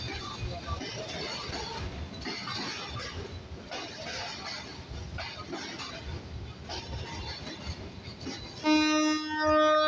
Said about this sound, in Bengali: বিরামপুর রেল স্টেশনে ৩ মিনিটের যাত্রা শেষ করে আমাদের ট্রেন মাত্রই হুইসেল দিল